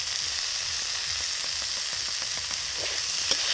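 Boiled vegetables frying with spices in a pan for masoor dal, a steady broadband sizzle with faint stirring clicks throughout, close and continuous with no talk.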